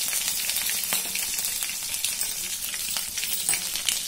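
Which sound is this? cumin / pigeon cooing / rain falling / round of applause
cumin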